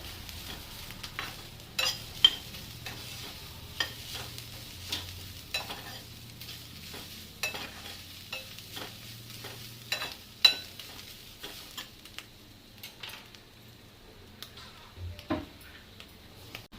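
Coconut frying gently in a pan, a quiet low sizzle under steady clinking and scraping of a spoon stirring at close range, faint and unhurried throughout.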